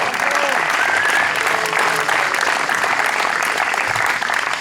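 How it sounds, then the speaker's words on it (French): Audience applause at a trophy ceremony for an international tournament in Aix, a steady dense wash of clapping filling the whole stretch with faint voices mixed in. "Je voudrais qu'on l'applaudisse très très fort"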